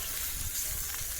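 Bacon sizzling over a campfire in the rain, a steady close hiss of frying fat with no talk.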